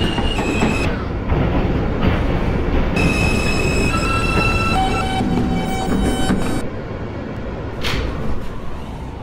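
A Queensbound M local subway train on the Myrtle Avenue line in a Roblox video game rumbles along loudly, with steady wheel roar and high, sustained squealing tones that shift as it runs; no talking.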